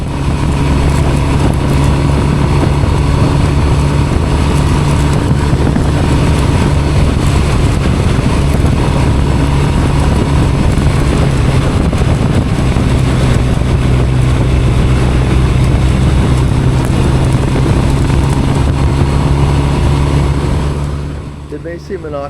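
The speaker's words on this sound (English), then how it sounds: "if we keep the RPMs up, man, it's like a land rocket" A motorcycle engine held at high RPM while riding gives a loud, steady roar mixed with heavy wind rush that continues unbroken for about twenty seconds before easing off near the end.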